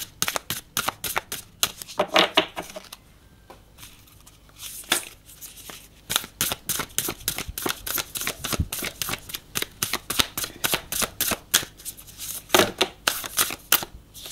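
A new, slippery tarot deck is shuffled and handled, giving rapid runs of crisp card flicks and riffles with a brief pause partway through, close and fairly quiet with no voice.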